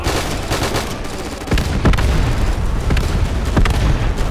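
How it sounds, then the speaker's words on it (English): Relentless artillery shelling and gunfire from the video game Easy Red II, set in the Battle of Stalingrad, form a dense, loud barrage of overlapping shots and heavy booms with no break. "I can't even see with all the shelling."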